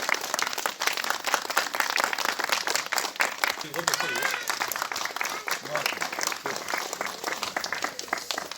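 A crowd claps loudly and steadily for several seconds, with a voice talking over the applause.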